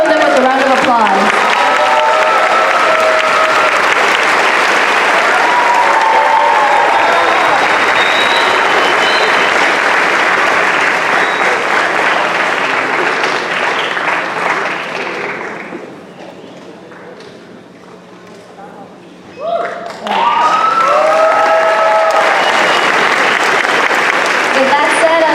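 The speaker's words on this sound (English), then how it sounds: "Please welcome them with a round of applause." An assembly audience honoring guest speakers at a Chicano Moratorium event breaks into loud, sustained applause with scattered cheers and whoops. Midway it briefly fades to near quiet, then surges back just as strong.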